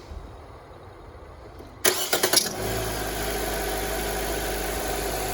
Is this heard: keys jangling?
no